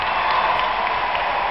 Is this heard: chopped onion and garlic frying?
no